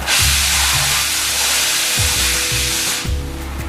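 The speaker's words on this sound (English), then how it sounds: "Get your torch level. Running level with the material you're cutting." Cutting torch slicing through metal, a loud continuous roaring hiss with low rhythmic pulses underneath that lasts nearly four seconds before easing slightly at the end.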